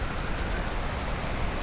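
Steady rain in the survival video game Stranded: Alien Dawn, an even hiss of drops falling continuously and alone at moderate level, with no speech.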